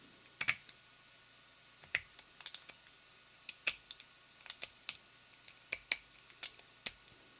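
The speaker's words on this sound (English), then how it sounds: "you just have to go in here and cut all these supports out." Supports being cut and snapped out of a 3D print, sharp isolated clicks and snaps at an irregular pace, quiet and close with near silence between them.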